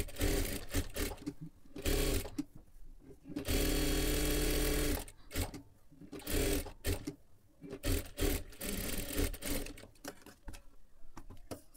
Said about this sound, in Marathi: इथे वरच्या बाजूला एकदम कडेकडेला आपल्याला पूर्ण शिलाई करून घ्यायचं आहे।